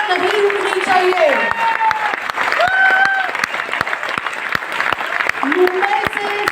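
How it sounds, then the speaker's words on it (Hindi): Steady, loud applause from a seminar audience at Mathushri Hall, Marine Lines, Mumbai, with distinct claps repeating throughout and a voice carrying over the clapping. "तालियां नहीं रुकनी चाहिए।"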